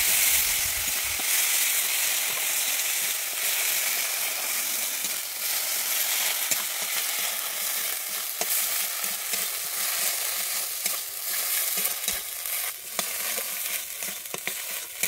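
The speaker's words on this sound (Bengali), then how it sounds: "আদা আর আমি শুকনো লঙ্কা একটা বেটে নিয়েছিলাম, ওইটাকে আমি দিয়ে দিচ্ছি। আমি ভালোভাবে নেড়ে নেব।" A paste of ground ginger and dried red chili sizzles in hot oil in a pan for a Bengali vegetarian ridge-gourd poppy-seed dish, with steady frying hiss and repeated scraping stirs throughout, close and alone.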